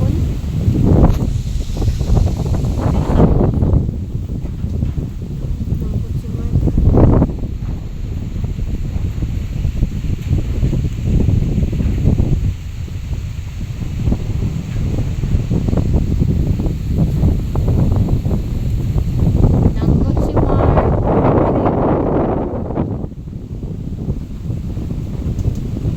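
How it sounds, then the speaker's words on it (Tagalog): Strong wind buffets the microphone in a steady roar, with gusts swelling and easing throughout and low rumbling underneath. "Kusog kay hangin diri ay."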